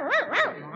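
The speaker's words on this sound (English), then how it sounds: "It's a dog fight." Two sharp dog barks in quick succession, loud and close, then a brief fading tail with no talking.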